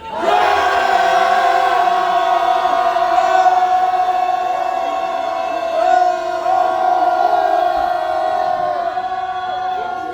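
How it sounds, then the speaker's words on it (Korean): Protesters outside the Seoul Western District Court chant loudly in unison at a press conference demanding students' release, a sustained massed roar of voices holding steady tones for about ten seconds. "대학생들한테 들릴 수 있도록 저희가 함성 힘차게 외쳐보겠습니다"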